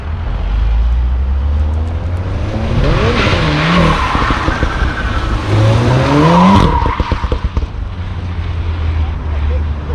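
Volkswagen Golf R, a 2016 model with APR mods, skids its tires while attempting donuts, with squealing rubber rising and falling over a loud engine roar and wind noise, with brief voices underneath.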